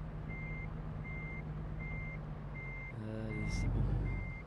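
Steady, evenly spaced reversing beeps from a backing truck in a trucking video game, heard over a low engine hum, with a brief air hiss near the end.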